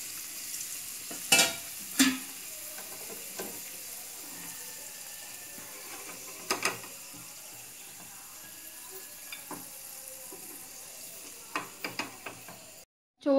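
Masala frying in a pan for Kabali rice, with raisins added, a low steady sizzle running throughout, broken by a few sharp clinks and scrapes of a spoon stirring against the pan.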